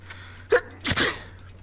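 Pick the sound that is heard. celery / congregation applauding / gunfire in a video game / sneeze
sneeze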